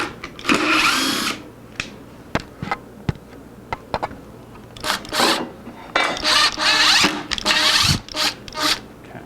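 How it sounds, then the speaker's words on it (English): A screwdriver drives screws into wood to pre-thread a hole in an acoustic guitar neck joint fixture, giving close, intermittent bursts of whirring and grinding broken by clicks and brief pauses. "Now, take the screwdriver. Once I will drive the screws in so that I pre-thread this hole nicely."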